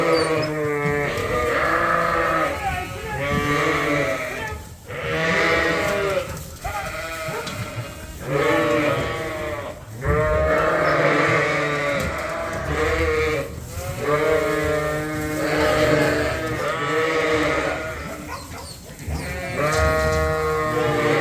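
Sheep on a snowy winter farm, rams and ewes, bleat repeatedly in loud, overlapping calls close by, one after another with short gaps.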